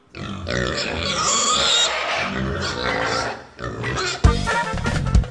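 A pig grunts and snorts repeatedly at close range, rough bursts rising and falling with a sharper thump near the end, amid lively background noise.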